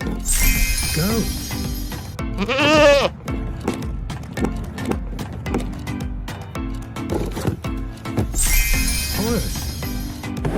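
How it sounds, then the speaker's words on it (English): A goat's bleat sounds from a farm animal toy, three wavering calls at the start, middle and end, loud and close, with knocks and some voice between them. "Goat."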